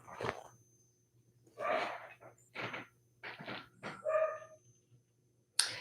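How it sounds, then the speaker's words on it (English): An indoor dog barks in a series of five or six separate yelps and whining barks spaced a second or so apart, fairly quiet and at a moderate distance, with a low steady hum underneath. "he will not stop barking."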